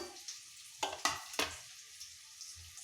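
Eggs frying in a hot pan for egg masala: a soft steady sizzle, broken by three sharp, louder crackling bursts in the middle as they are turned over, with no voices.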